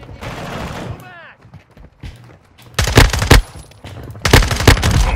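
Automatic gunfire in the Modern Warfare 2 beta multiplayer game comes in two loud rapid bursts of rattling shots after quieter in-game sounds. A voice is heard near the start.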